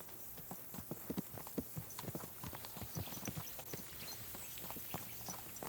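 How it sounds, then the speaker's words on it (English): Horse hooves clip-clop in a steady walking rhythm in Kingdom Come: Deliverance 2, fairly quiet and close, a continuous run of soft thuds. "A good horse."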